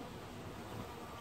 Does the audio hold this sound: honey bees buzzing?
yes